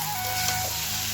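Cauliflower and potato curry sizzles in a pan with spices, a steady close hiss over a short moment with no voices.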